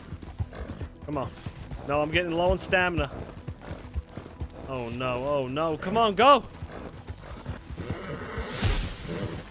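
Horse hooves and whinnies from a tired mount during a multiplayer horse race in the video game Red Dead Redemption 2 Online, heard under excited talk, with a rushing swish near the end.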